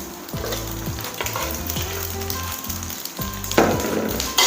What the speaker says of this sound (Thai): ทีนี้ผัดคลุกเคล้าได้เลย